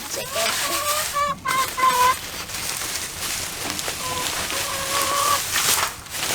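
Chickens cluck and chatter in a backyard pen, a steady run of short, bright calls over a busy, noisy background, with a few voices faint under the flock.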